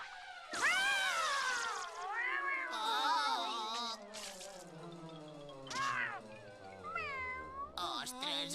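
A cartoon cat in a Catalan-dubbed Doraemon episode meows in drawn-out, sliding cries among several voices talking and exclaiming, with sound effects and a busy, animated soundtrack throughout.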